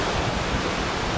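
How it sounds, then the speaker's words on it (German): Light sea waves wash onto the beach at Side on a slightly choppy day, a continuous close rush of surf mixed with some wind noise on the microphone. "Wir haben leichte Wellen."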